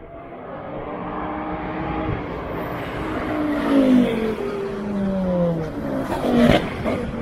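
Race cars, including Porsche 992 Cup cars, sweep past on the Nürburgring during test sessions, engines swelling and fading as several pass in succession at mid distance with a brief tire squeal, no talk.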